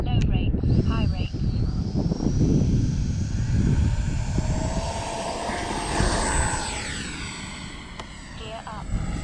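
Flyfans L-39 Black Diamond 64mm RC model jet taking off, its electric ducted fan whine building steadily and rising in pitch over a continuous loud rumble, with a voice speaking over it near the start.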